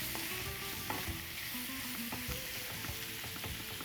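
Green chillies with chilli powder, turmeric and coriander powder sautéing in a pan for fried egg thokku, a steady sizzle with scraping stir strokes, close and continuous with no talk.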